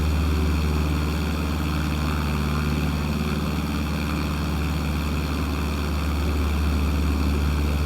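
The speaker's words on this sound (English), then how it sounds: "For a touch and go, this should be pretty straightforward." A steady, loud aircraft engine drones without pause through a touch-and-go landing on a wide runway in the game MS Flight Simulator, with a constant hum and no voices.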